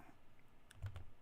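Typing on a computer keyboard with one hand, a few quiet keystrokes followed by a brief cluster of louder, close clicks near the end, with no talk.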